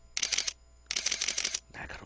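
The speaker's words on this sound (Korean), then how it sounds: "셔터 소리는" Shutter of a Canon EOS-1v film camera firing in rapid bursts: two long, fast runs of crisp mechanical clicks followed by a shorter burst, close and sharp.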